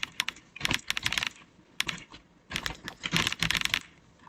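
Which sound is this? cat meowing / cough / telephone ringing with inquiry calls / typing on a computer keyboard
typing on a computer keyboard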